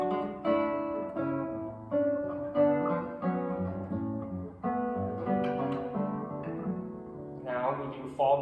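A guitar plays the Romanesca in early-nineteenth-century style, decorated with diminutions and 4-3 and 9-8 suspensions: a flowing run of plucked notes over a stepping bass, close and moderately soft, with no voice over it.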